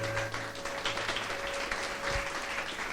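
A church congregation applauding God during a Spanish-language service: steady, moderately loud clapping from many hands throughout, with a faint background hum.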